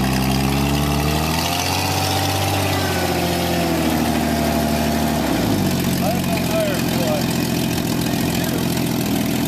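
An old Subaru car engine runs steadily with a droning hum whose pitch shifts partway through; voices talk over it at times.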